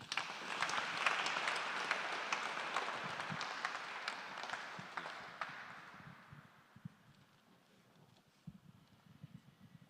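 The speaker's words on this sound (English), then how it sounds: "let's give our artist a big round of applause one more time" An audience applauds for an artist at an advocates' society launch event, a dense clapping wash that holds for several seconds and then fades away into scattered faint claps.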